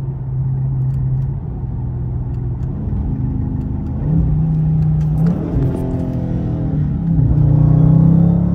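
A Dodge Charger Scat Pack accelerates hard in a 40 mph roll, its engine revving up loud and close, with audible drops in pitch at each paddle-shifted gear change.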